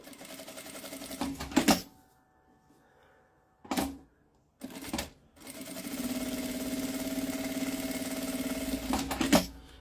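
A sewing machine stitching along the edges of a fabric bag runs in short bursts, then a long steady whir, close and clear, with brief pauses and handling clicks between runs.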